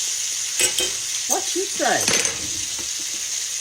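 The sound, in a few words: chicken fried steak sizzling in frying grease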